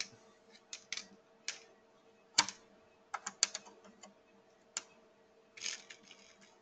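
Computer keyboard keys are tapped in short irregular bursts of clicks while setting up an Avolites lighting console show, close and fairly quiet, with a faint steady hum underneath.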